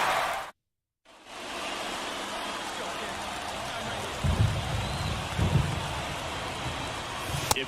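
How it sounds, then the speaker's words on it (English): Steady rain hiss from a baseball video game broadcast fills the scene, with low rumbling thunder-like swells near the end and a brief dropout early on. "It feels like we might be headed towards a rain delay if the weather doesn't ease up, Chris."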